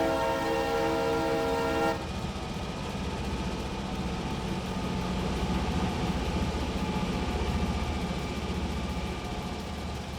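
A coal train departs in the video game Railroader: a loud sustained horn blast, then a steady rumbling roll of engine and wagons continuing throughout.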